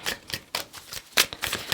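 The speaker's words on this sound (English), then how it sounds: "sometimes it's sloppy shuffling" Tarot cards are shuffled loosely and sloppily, a close run of quick papery slaps and flicks in an uneven rhythm, with no talking.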